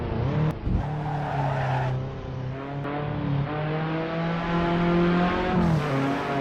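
An Alpine race car drives hard and skids through a dirt-sprayed corner on a circuit, a loud steady engine drone with rising and falling pitch and sustained tire noise, close and continuous with no talk.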